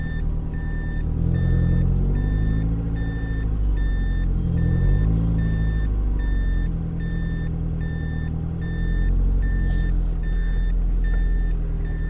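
A car reversing during driving-test parking practice, with regular reversing beeps pulsing steadily over a close, low engine rumble that swells and eases as the car moves.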